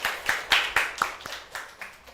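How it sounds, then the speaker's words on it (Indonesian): A live show audience claps in unison, about nine sharp, evenly spaced hand claps in a quick steady rhythm, close and clear with no voices over them. "Yeay, tepuk tangan."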